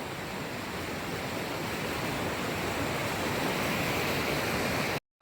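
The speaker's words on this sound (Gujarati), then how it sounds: "મારી પાછળ છે ખાંડ છે, એની અંદર ધોધ પડી રહ્યો છે" The Jamjir waterfall in Gir pours into a rocky pool with a constant, dense roar of falling water. It stays steady and close until it cuts off abruptly.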